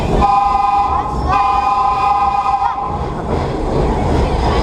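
A New York City subway train's high whistle tone sounds steadily over a loud rumbling rail roar, cutting out briefly partway and returning before fading under the noise.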